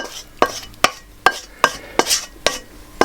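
A series of sharp scraping and clattering hits, about eight in steady rhythm, as a utensil pushes Persian ghormeh sabzi stew from a frying pan or wok into a saucepan, close and fairly loud.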